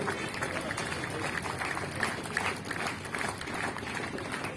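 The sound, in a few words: audience applause at a celebration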